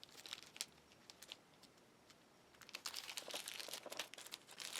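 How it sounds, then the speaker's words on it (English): Plastic bag being trimmed to the end of tubing: soft crinkling and crackling in short bursts, then a denser stretch of rustling, close and fairly quiet. "I'm going to go ahead and trim this plastic bag down to the end here"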